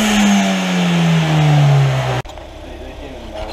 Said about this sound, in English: Go ahead and rev it.